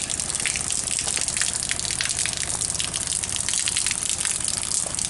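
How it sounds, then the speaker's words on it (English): Cold, clear spring water gushing steadily outdoors, a continuous close rushing and splashing flow with no pauses and no voices. "Let's take a better look at this spring here for just a second."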